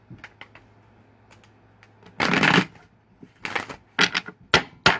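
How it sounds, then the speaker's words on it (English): Several quick, crisp bursts of tarot cards being riffled and bridged, close and fairly loud, separated by short quiet gaps. "Okay, we're gonna give it one more shuffle."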